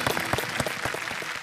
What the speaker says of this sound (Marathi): जोरदार एकदा टाळ्या.